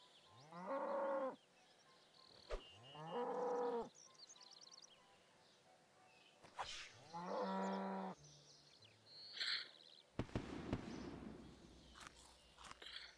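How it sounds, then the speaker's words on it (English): A cow moos loudly several times in drawn-out calls separated by pauses, with some bleat-like cries and footsteps shuffling nearby; no one speaks. "Just ran into that cow"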